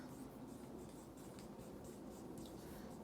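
A pencil or pen writing a full sentence by hand on a grammar task card, a faint continuous scratching with light stroke accents, close but quiet over steady background noise.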